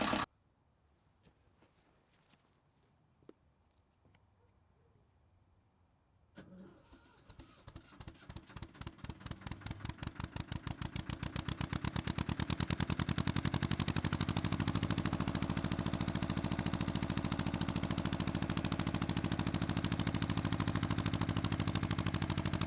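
A rebuilt Kestrel engine, after its starter motor was repaired, cranks with quickening chuffs, catches and settles into a loud, steady close-up running drone that continues to the end.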